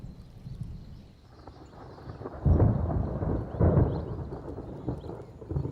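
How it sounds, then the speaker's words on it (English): Rumbling thunder from an approaching summer storm on the African savanna rolls low and continuous, swelling into two heavy peaks midway before easing off, with no voices over it. "The approach of the first summer storms charges the air."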